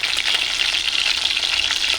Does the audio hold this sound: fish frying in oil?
yes